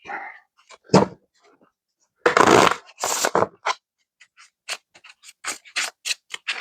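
Playing cards are shuffled at an Ultimate Texas Hold'em table, giving several quick riffling bursts followed by a run of sharp, separate snaps and taps, close and fairly loud with no talk.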